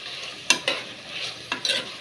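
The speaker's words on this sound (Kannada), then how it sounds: "ಎಲ್ಲನೂ ಚೆನ್ನಾಗಿ ಬಾಡಿಸ್ಕೊಳ್ಳಬೇಕು." Onion, capsicum, tomato and carrot sautéing in a pan, with a steady soft sizzle broken by four sharp stirring scrapes of a spoon against the pan, close and fairly loud, with no talk.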